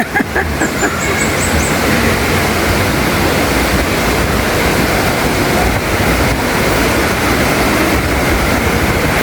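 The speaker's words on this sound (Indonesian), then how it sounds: "Suara air." Loud, steady rushing water roars continuously from start to finish, a dense broadband wash from a nearby waterfall, Curug Cigentis in Karawang, West Java.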